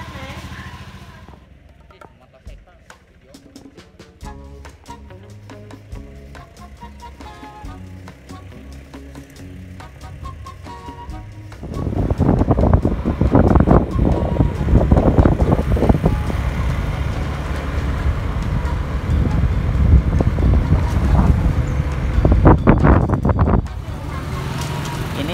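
A Ryuka Klasik motorbike ridden on a road, quiet engine drone at first, then loud wind buffeting and engine noise from about halfway through; a voice is heard faintly at the start.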